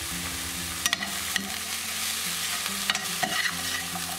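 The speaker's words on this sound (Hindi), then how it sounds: "इनको कुछ सेकंड के लिए सोटे कर लेना है।" Bell pepper, sweet corn and spices sautéing in a pan give a steady sizzle, broken by a few sharp clicks and scrapes of a spatula stirring them, with no talking.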